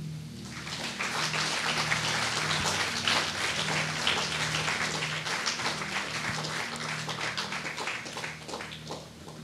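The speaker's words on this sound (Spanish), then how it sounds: "¿Por qué no le da un aplauso al Señor?" Church congregation claps for about nine seconds, dense steady applause that fills the room with a low hum of music beneath it.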